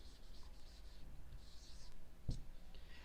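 The word 'play' being written in a grammar lesson: faint scratching of a writing tool over quiet room tone, with a single soft tap near the end.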